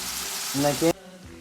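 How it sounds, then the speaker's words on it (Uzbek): Carrots fry in a hot pan while cooking a home-made salad, a loud steady sizzle with a short clatter of stirring, then cutting off abruptly to a faint hum. "Sabzini ham qovurib olyapman hozir"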